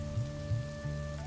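Rain falls in a steady patter, a brief close wash of drops with a low rumbling undertone and a faint tonal hum running beneath.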